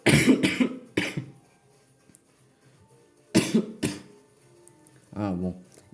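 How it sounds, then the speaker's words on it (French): A man who is ill coughs in short harsh bursts, two or three quick coughs, then a pause, then another pair, with a brief spoken sound near the end. "Excusez-moi de tousser durant les vidéos"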